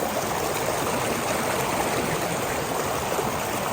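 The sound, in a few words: fast-flowing stream at night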